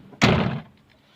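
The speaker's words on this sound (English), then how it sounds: "this door, it constantly rattles" A Nissan Patrol GU door slams shut with a single loud, close thunk that fades quickly into quiet.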